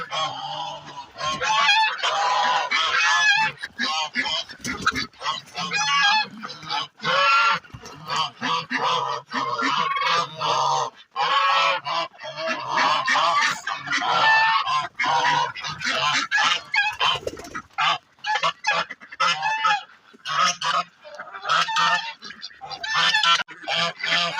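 A farmyard flock of geese and ducks being fed grain honks and quacks continuously up close, calls overlapping in a noisy, busy chorus.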